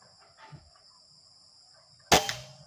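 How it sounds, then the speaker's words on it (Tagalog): A Taurus toy gun fires a single shot on a 50-meter outdoor range: a sharp, close crack with a brief ringing tail, after a few seconds of quiet with faint background rustle. "Firing."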